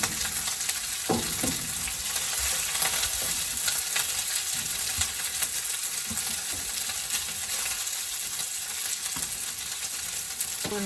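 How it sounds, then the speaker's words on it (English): Ghanaian-style fried rice sizzles steadily in a pan while a utensil stirs and scrapes through it, with scattered clicks and knocks, and no one speaking. "So right now we're gonna be putting the rice in the pan, but we're gonna be doing a little bit piece by piece."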